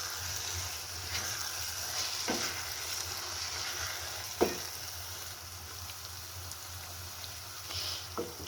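Grated carrot halwa roasts in a pan, a soft, steady sizzle under repeated scraping stirs, with a few sharp knocks of the spoon against the pan.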